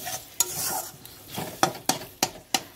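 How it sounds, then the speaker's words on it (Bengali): A spice masala with sugar is stirred and fried in oil in a pan for a soybean, potato and egg curry. Sharp spatula scrapes land in a quickening rhythm over a soft, continuous sizzle, close up, with no speech. "এবার আমি চিনিটা দিয়েও খানিকক্ষণ নেড়ে চেড়ে ভালো করে কষবো, তেলটা ছাড়া পর্যন্ত মশলা থেকে"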